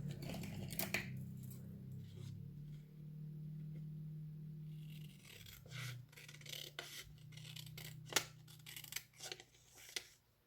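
Scissors cutting through paper for a book page pocket, a steady rasping slice for several seconds followed by a few shorter snips, close and clear with no talking.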